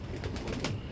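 Pigeons in a loft of about 28 pairs on a rainy monsoon day, soft low cooing murmurs rising and falling over a faint background hiss, brief and quiet.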